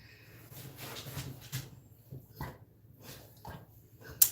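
A dog whimpers and yips in short, soft bursts at irregular intervals over a quiet low hum, ending with one sharper, louder cry at the close.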